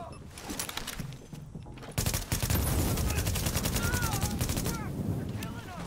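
Rapid gunfire from the video game The Division: dense, sustained bursts of shots that swell loudly after a quieter opening, with excited players shouting over the battle.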